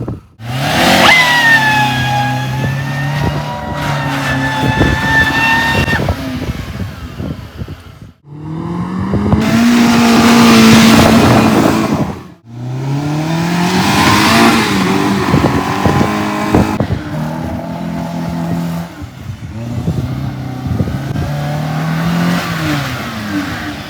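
A restored 16-year-old Ford Ikon revs hard while drifting, its engine note climbing and falling in loud repeated surges with short gaps between pulls, heard close with no voices.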